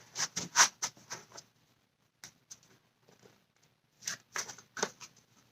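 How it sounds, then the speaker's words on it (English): A deck of tarot cards is shuffled close up, in two quick bursts of crisp riffling and flicking separated by a near-silent pause. "Let me just shuffle one more time."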